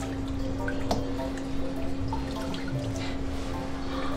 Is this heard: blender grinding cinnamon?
no